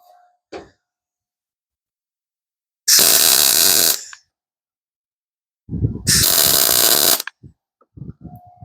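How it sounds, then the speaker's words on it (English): Cheap Amazon welder laying beads on a rusty GMC van rocker panel, two loud crackling buzzes of about a second each, separated by silence and a few brief clicks. "This welder, for a cheap welder off Amazon, seems to work very well."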